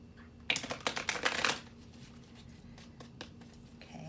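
Oracle cards are shuffled in a dense, riffling burst of about a second, close and crisp, then sparse soft card taps follow over quiet room noise.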